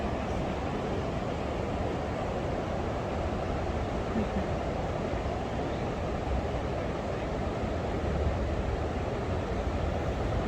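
Near Turgi, a train rolls past beside a flowing river: a steady, loud, broadband rumble and rush that holds evenly for about ten seconds without any break.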